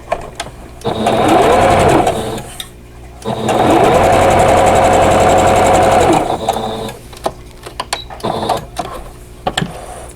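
A sewing machine stitches a vintage Handy Andy quilt block seam in two loud, steady whirring runs of about two and three seconds, followed by quieter clicks and handling of the fabric and machine.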